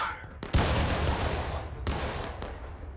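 A musket volley fires in the Civil War game War of Rights, a loud ragged crackle of many rifles followed by a second burst, with rolling echo over the field.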